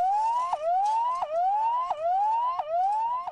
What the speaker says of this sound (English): there's just a siren on site